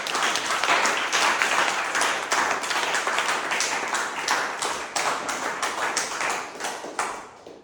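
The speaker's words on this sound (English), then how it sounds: "Big round of applause." A Toastmasters meeting audience gives a big round of applause, loud and close, with brisk dense clapping that holds steady for several seconds before thinning out and stopping.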